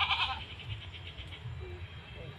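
A Beetal goat on a goat farm gives a short bleat right at the start, followed by quiet farm ambience with low rumbling.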